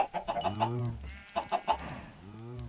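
Chickens in the game Minecraft cluck in short repeated bursts, close and fairly loud, with brief gaps between the groups of clucks.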